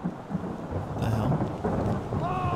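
Rumbling thunder rolls loud and close in Return of the Obra Dinn, with steady rain hissing beneath the deep booms.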